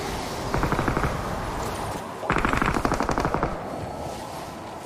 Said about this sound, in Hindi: तो पीछे से एक बंदे ने मेरे ऊपर गोलियां चलाई।